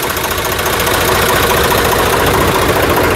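A Farmtrac tractor engine idles loudly and close by, its rough, rhythmic diesel knocking steady throughout with no other sounds.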